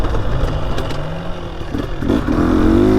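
A 2023 Husqvarna TX300 two-stroke TBI dirt bike pulls hard in third gear, its loud, close engine note climbing steadily in pitch toward the end with no talking.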